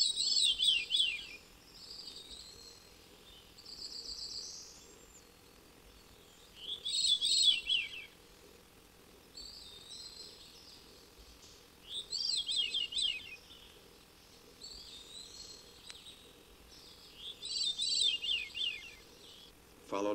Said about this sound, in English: Now the descending spirals of the veery.